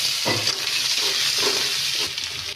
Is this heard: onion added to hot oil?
yes